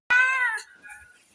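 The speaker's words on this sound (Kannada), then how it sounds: "ನಮ್ಮನೆ ಬೆಕ್ಕುಗಳು ಈ ಬುಲ್ಲ ಮತ್ತು ಬೀರ ಇದ್ದಾರಲ್ಲ, ಏನು ಮಾಡಿದ್ರು ಕೈಗೆ ಸಿಕ್ಕೋದಿಲ್ಲ" A house cat gives one loud, close meow that rises and then tails off, followed by faint quiet.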